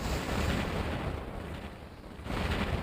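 Robot weapons firing in War Robots, with the new Harpy robot being tested: a steady roar of heavy fire with a dip in the middle, then a fresh burst near the end, no talk over it.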